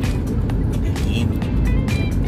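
Heavy traffic in a tunnel in the Philippines, a steady booming rumble with scattered clatters and hisses from nearby vehicles, loud and enclosed.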